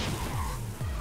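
A car crashes in the zombie survival game Undawn, a couple of brief scraping, skidding impacts over a constant engine drone, loud and close with no talk.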